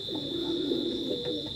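Teddy pigeons of an imported bloodline cooing softly in a low, continuous burble, close by, with a steady high-pitched background tone.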